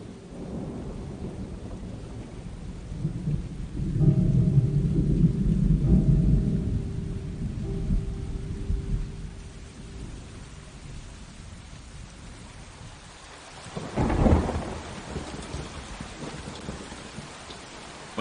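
Rain falls steadily on surfaces outdoors while thunder rumbles, with a heavier low roll early on and a sharper crack later, near and fairly loud, no voices.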